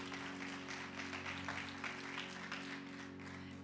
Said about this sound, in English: Give yourselves a round of applause for all of your generosity.